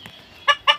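Two short, close clucks from chickens at a poultry farm, sharp and distinct, following a quiet moment with a faint earlier cluck.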